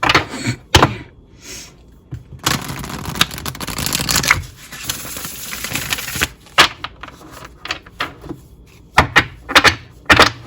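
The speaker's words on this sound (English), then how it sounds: "I say shuffle one last time." Tarot cards are shuffled in quick riffling bursts with soft flutters and slaps, close and fairly loud, with no voices.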